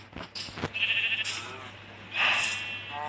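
Sheep bleat in an animal find-the-button video game, with several loud, wavering bleats in quick succession that end in a longer, strained cry.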